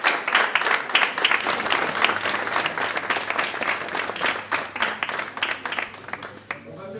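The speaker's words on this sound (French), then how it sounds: "Un hommage à notre président disparu, célébré sous la forme d'une minute d'applaudissement" An audience at a club's general assembly gives a sustained round of applause as a tribute, steady dense clapping with individual hand claps standing out throughout.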